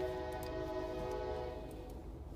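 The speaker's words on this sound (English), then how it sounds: "I don't know if I want to wait for this train." A freight or passenger train at a crossing sounds a sustained horn chord over the low rumble of rail cars, heard from a waiting car at moderate distance and fading slightly toward the end.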